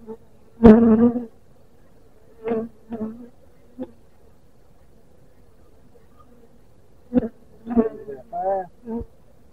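Honeybees buzz in a steady low hum while a nuc hive is opened for inspection, with a person speaking in short bursts over it.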